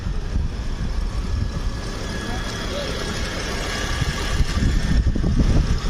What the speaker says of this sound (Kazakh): Мотор жақсы жұмыс жасап тұр.